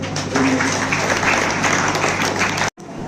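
Audience applause in a hall during a children's values camp event, a full, steady burst of clapping from many people that cuts off abruptly near the end.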